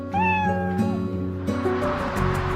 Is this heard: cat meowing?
yes